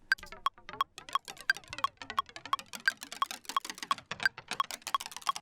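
Rapid, crisp wooden clicks in a quick, slightly uneven rhythm, like drumsticks tapped together, close and dry with no talking.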